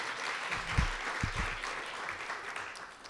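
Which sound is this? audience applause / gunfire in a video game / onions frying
audience applause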